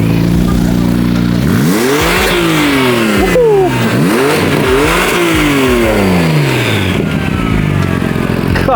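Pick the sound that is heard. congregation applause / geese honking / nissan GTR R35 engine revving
nissan GTR R35 engine revving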